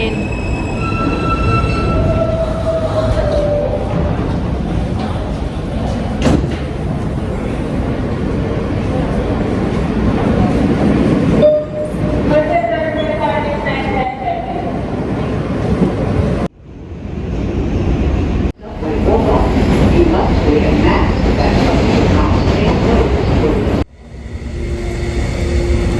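A New York subway train rumbles loudly into a Manhattan station, with a steady heavy roar, squealing wheels and braking tones, then brief drops as it slows and stops, continuing near and dominant throughout.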